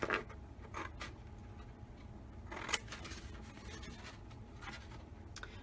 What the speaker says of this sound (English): what I'm going to do right now is just cut these two out